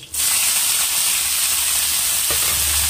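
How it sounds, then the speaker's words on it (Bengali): Kochur loti (taro stolons) frying in a hot pan with spices, a loud steady sizzle and crackle that rises suddenly at the start and holds throughout, with a brief clatter near the end and no voices. "দিয়ে দেব এই কচুরলতিগুলোকে ভেজে নেব।"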